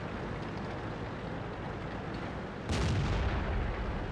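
Tank cannon fire in World of Tanks: a steady low rumble of engine and battle noise, then one heavy booming shot about two-thirds through that stays loud and rolls on to the end.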